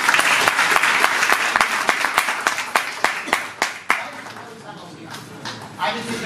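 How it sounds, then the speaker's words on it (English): At the Mumbai Fest announcement event, an audience claps in a loud burst that fades into sparse, separate claps, with someone talking throughout. "you have to clap even harder"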